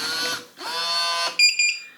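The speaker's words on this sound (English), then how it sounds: "Hit the lock button to lock." A Kwikset SmartCode 260 smart lock sounds a series of electronic beeps as it locks: two longer tones followed by two short, sharper chirps, close and clear with no talking.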